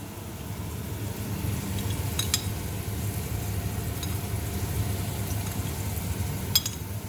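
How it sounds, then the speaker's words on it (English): Lamb and vegetables sauté in a pan for a tagine with a steady close sizzle and light stirring, broken by a few brief scraping clicks. Nobody speaks. "Now, these starting to saute."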